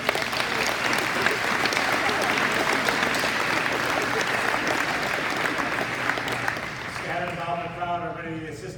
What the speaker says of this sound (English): One round of applause for her, please.